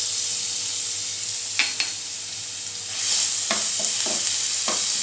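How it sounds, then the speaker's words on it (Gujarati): Ginger, chili and garlic paste drops into hot oil for street-style hakka noodles. A steady hiss jumps to a louder sizzle partway through, with several sharp spoon-stirring clinks, close up and without talk. "અહીંયા આપણું તેલ સરસ ગરમ થઈ ગયું છે, તો આપણે આદુ મરચાં અને લસણની જે પેસ્ટ તૈયાર કરેલી એ પહેલાં ઉમેરી દઈશું આપણે"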